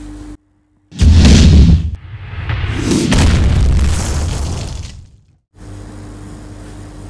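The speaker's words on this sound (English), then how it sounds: "Now I'm gonna destroy you with my extremely real fireball." A fireball explosion effect: a loud, deep boom bursts in, then a long rumbling roar swells and slowly fades over several seconds, with a low steady hum before and after.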